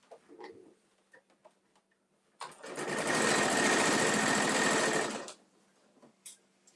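A sewing machine stitching the corners of a tote bag runs in one loud, steady burst of about three seconds, close up, framed by faint handling noises and a low background hum.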